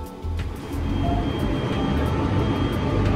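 The Sunrise Izumo sleeper train runs through the night past Atami, heard from inside as a steady, moderately loud rumble with faint rhythmic clatter and a thin high tone, no voices.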